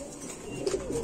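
Pigeons coo at a bird market where pairs are sold, a low, soft throaty warble rising near the end over a murmuring background, brief and moderately close.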